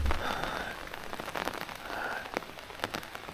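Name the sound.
rain falling in Hallstatt village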